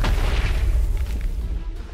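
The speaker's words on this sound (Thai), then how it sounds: "เสียงระเบิดได้ยังไง" A deep, rumbling explosion booms in the Minecraft video game, a loud continuous low roar lasting about two seconds with no talking.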